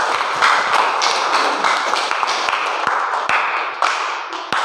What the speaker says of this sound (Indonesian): Oke, tepuk tangan dulu untuk kalian semuanya.